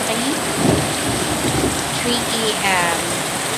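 Heavy rain pouring outside during a downpour, a steady loud wash of rain with distant thunder rumbling, while a voice speaks briefly over it.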